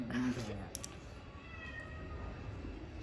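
A cat gives a short meow close by at the start. Soft background noise and faint sounds follow for the rest of the moment.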